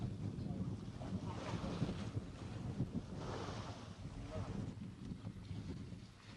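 A traditional Polynesian sailing canoe, a tepuke, under sail at sea in the evening: steady wind buffeting the microphone over continuous wave and water rush against the hull, with no talking.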